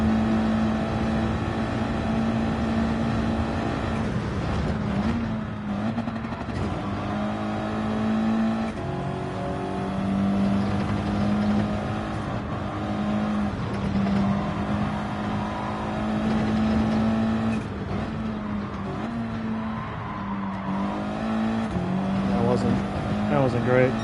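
Race car engine in Gran Turismo 7 on a practice lap, a loud continuous drone that rises and falls with shifts and revs throughout, with a voice talking over it.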